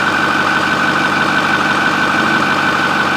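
A 2009 Ford F-450 pickup with a 6.4 L diesel engine idles nearby, a loud, steady drone with an even mechanical hum and no change over a few seconds.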